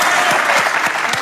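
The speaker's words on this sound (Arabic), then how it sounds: "تصفيق على يوسف" Audience clapping for singer Yusuf at an Arabic nasheed performance, a brief, loud burst of close applause with a faintly rhythmic pulse.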